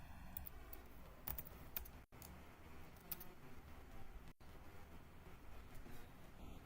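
Code is typed on a computer keyboard in quick, uneven bursts of close, faint key clicks, with a couple of brief dropouts.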